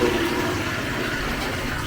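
A toilet in a newly built house at a Supalai housing project is flushed as a test, with a steady, loud rush of water that runs through the whole clip without a break.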